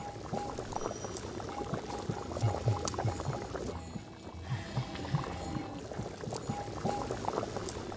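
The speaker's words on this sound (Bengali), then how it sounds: "মাংস কষানো হয়ে গেছে, গরম জল দিয়ে দিই।" Hot water poured into a pot of browned village-style chicken curry, a steady close splashing and bubbling pour that swells and eases over several seconds with no talk.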